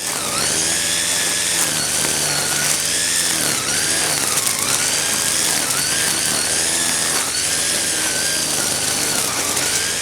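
A Craftsman WS405 four-cycle gas string trimmer runs steadily and loudly up close, its engine whine rising and dipping slightly in pitch through the whole stretch with no talk over it.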